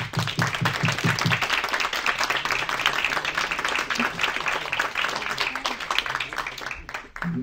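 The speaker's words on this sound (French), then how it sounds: "Je vous demande de lui faire un triomphe d'applaudissements, mesdames et messieurs" Audience at a Napoleon festival conference applauding David Chanteranne, dense sustained clapping from a hall full of people, loud and steady for several seconds.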